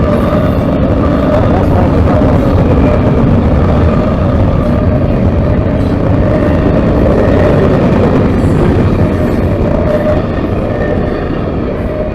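A heavy CSX freight train rumbles steadily past close by, a loud continuous roar of wheels and cars with faint rhythmic clatter throughout.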